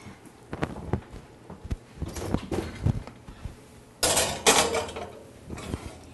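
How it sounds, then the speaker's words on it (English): A baking dish topped with cheese goes into an oven: scattered knocks and clinks of cookware, then a louder rattling clatter and thud of the dish sliding in near the end, with no talking. "So let's pop this in the oven."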